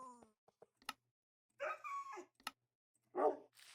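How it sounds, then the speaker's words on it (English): Minecraft dogs barking in-game: a few short, clear yips and barks separated by quiet gaps, with brief whimpering sounds in between, close and fairly loud. "just want to hear the different barking noises"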